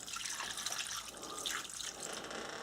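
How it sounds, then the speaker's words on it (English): Water pours steadily into a pot on the stove for a Swanson's Cheesy Chicken Dinner, a continuous bright splashing and trickling that stays even and close throughout, with no talking over it. "We'll add our water"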